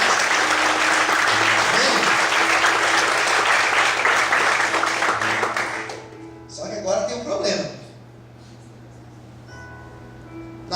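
Church congregation applauding the Lord during an evening sermon: loud, dense crowd applause for about six seconds, then fading into a few scattered claps while a voice speaks over a low hum.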